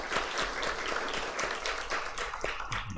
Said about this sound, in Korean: 여러분 힘차게 박수로 따뜻하게 격려하겠습니다